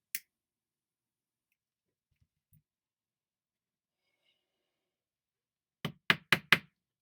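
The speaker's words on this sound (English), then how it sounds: "That's me knocking the tobacco out of my tube." Tobacco knocked out of a smoking pipe: one sharp tap near the start, a faint soft knock later, then four quick crisp raps close together, all close up against near silence.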